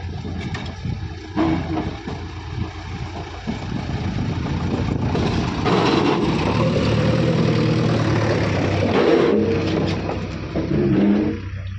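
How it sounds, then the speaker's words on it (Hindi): A JCB backhoe's engine runs steadily while it works to pull a stuck tractor out of a pit. The loud, continuous diesel rumble swells with revving surges throughout, and no voices are heard. "जेसीबी आ गई भाई ट्रैक्टर को निकालने।"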